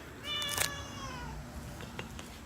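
A cat gives one drawn-out meow, close and fairly clear, followed by a few soft clicks and rustles in an otherwise quiet room.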